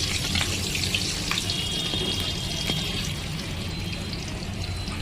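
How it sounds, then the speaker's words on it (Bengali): Eggplant fritters fry in hot oil in a wok, a steady, loud sizzling, continuous crackling hiss with no voices. "এখানে কড়াই তেল গরম হয়ে গেছে, এগুলো এবার একটা একটা দিয়ে দেবো"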